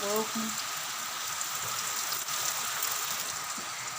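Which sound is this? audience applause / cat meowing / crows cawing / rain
rain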